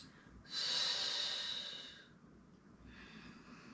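Deep breaths during a yoga exercise, a long, loud, close exhale lasting over a second followed by a quieter, softer breath, with no talking.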